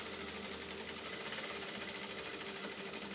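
A sewing machine runs steadily stitching the side pocket seam of a pair of trousers, a continuous fast whirring drone with no pauses, close by and moderately quiet.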